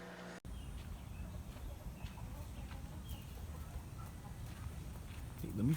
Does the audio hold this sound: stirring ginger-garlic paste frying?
no